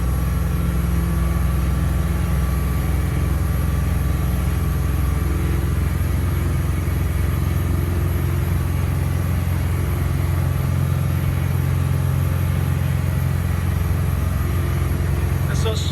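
A MerCruiser 2.8L turbo diesel Bravo sterndrive on an Aquafish 23 boat runs at full speed, a loud, steady low engine drone with constant rushing noise throughout, no talking.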